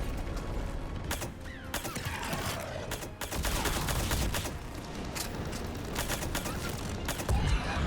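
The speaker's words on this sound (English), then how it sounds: "You shoot them with the guns." Gunfire rings out in the Mass Effect 3 video game, with repeated sharp shots and bursts across a busy mix of game effects and background sound, fairly constant throughout.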